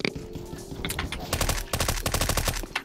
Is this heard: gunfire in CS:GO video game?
yes